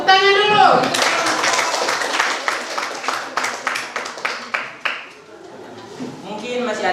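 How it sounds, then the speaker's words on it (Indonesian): Pupils in an Indonesian classroom clap together after a group presentation, a burst of rhythmic hand claps that slows into separate claps and fades, with voices talking at the start and end. "Tepuk tangan dulu."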